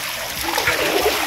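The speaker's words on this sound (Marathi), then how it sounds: "पाणी बघा गाईस" Floodwater splashes and rushes during rain in Alibag, a broad noisy wash with irregular splatter bursts, fairly close and continuous.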